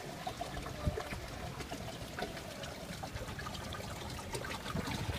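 Water trickles down an outdoor dragon sculpture, a steady soft dribbling and splashing with faint scattered drips, heard alone at moderate distance.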